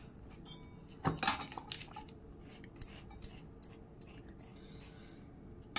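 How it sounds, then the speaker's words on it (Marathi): A knife spreads butter on bread close by, giving quiet, intermittent scrapes and soft clicks against a plate, with one brief louder clatter near the start. "चला आता आपण आता हे ब्रेडला बटर लावून घेऊ।"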